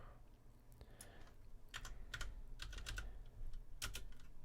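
Keys clatter on a computer keyboard during software configuration work, coming in short, uneven bursts of close clicks with brief pauses between them and no talking.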